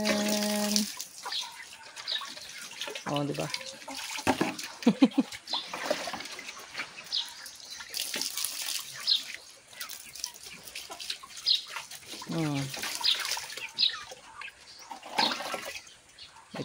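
Tap water splashes into a chickens' drinking container, and the stream runs and gurgles nearby for most of the stretch, with brief speech and a few bird sounds in the background.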